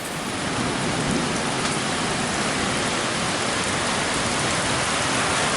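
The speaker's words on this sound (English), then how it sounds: "Well, it's finally raining here." Steady, heavy rain pours down continuously, a dense hiss of drops drumming on surfaces close by, loud and unbroken throughout.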